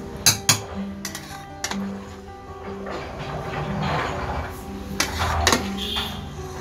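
A spoon scrapes and clinks against a pot while cooked chicken biryani made with basmati rice and leg pieces is stirred and mixed, with sharp metallic knocks at the start and softer shuffling scrapes after.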